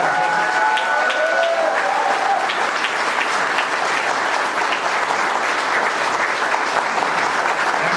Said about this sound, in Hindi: तो आइए एक बार हम जोरदार तालियों के साथ